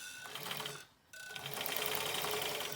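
A sewing machine stitches a shaped fabric face mask in a steady, rapid whirring run, pausing briefly for about a quarter second before resuming; close and moderately loud with no talking.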